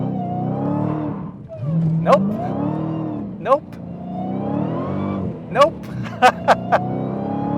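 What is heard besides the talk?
Dodge Challenger Hellcat accelerating at full throttle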